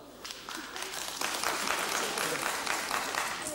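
A live stand-up comedy audience in Hong Kong breaks into clapping that swells after the first second into a dense, sustained wash of applause filling the room.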